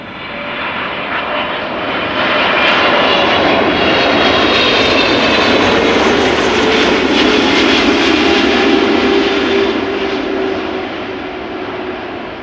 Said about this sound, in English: let's look at KLM flight 736, a Boeing 777 arriving from Curaçao